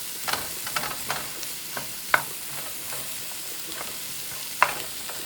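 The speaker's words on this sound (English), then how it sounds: "I'm going to saute the mushrooms." Mushrooms and onions sautéing in a pan, a soft continuous sizzle broken by scattered clicks and two sharper knocks of a utensil against the pan, with no talking.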